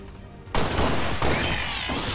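Pistol fire in XCOM 2: two loud, sharp gunshot blasts about 0.7 seconds apart, each with a broad crack and a reverberant tail, over a low game background.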